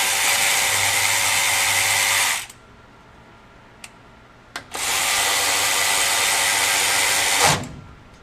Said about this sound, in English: it has plenty of power to do what it needs to do in running those bolts in and out or running nuts on and off